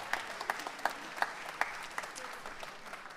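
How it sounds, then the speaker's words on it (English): An audience applauds an orchestra group at an end-of-year concert, with sparse, distinct claps near the front over a softer spread of clapping that fades toward the end. "You can applaud for this group."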